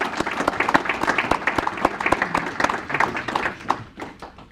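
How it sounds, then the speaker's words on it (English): A crowd at a public safety news conference applauds firefighters, a dense burst of clapping that holds steady and then thins out toward the end. "So at this time, I'd like to give them a round of applause."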